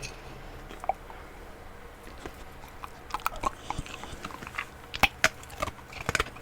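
A dog crunches and chews a treat up close, with sparse wet bites at first, then a denser run of crisp, sharp crunches in the second half.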